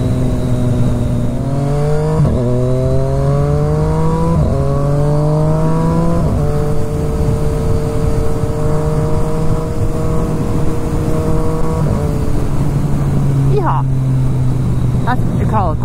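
Triumph ST3 RS motorcycle engine running steadily while riding, close and loud, with rising and falling pitch through gear changes and revs across the whole stretch.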